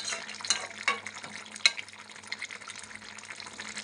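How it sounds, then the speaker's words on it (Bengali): Paneer curry stirred in a pan, with a spoon scraping and clinking in short strokes over a soft wet simmer, close and fairly quiet. "হালকা একটু নাড়া দিয়ে দিলাম"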